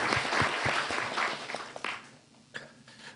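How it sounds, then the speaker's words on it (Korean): Church congregation giving a short round of encouraging applause for youth students, fairly quiet and thinning out as the clapping trails off into scattered claps. "우리 그들을 위해서 우리 격려의 박수 한번 보내주시기 바랍니다"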